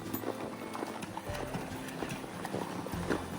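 Gaited horse hooves clip-clop at a steady walking rhythm on a dirt trail near Ten Sleep, Wyoming, fairly close, with some soft rustling around them.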